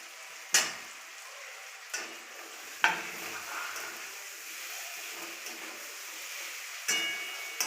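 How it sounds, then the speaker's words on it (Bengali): Potatoes stirred and frying in a pan with a little water, a steady soft sizzle broken by several sharp scraping stir strokes of a spoon against the pan, close up and with no talking. "আলুকে ভালোভাবে নেড়ে নিচ্ছি।"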